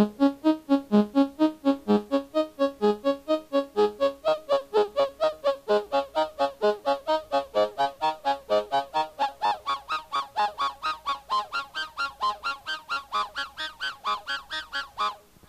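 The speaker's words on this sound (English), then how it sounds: "modulating Oscillator 1 with the ADSR envelope and varying the modulation control sweeps the harmonic structure like this" A buzzy PAiA Proteus I mono synthesizer tone pulses in rapid, even repeated notes while its hard-synced oscillator's bright harmonics sweep up and down under envelope modulation, honking and nasal in character.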